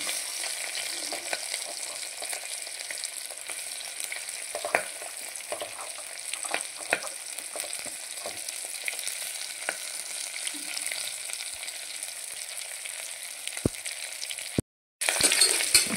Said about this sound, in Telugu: మంచిగా వేగాక ఇందులో సన్నగా పొడుగ్గా కట్ చేసుకున్న పచ్చిమిర్చి, ఆనియన్స్ అన్నమాట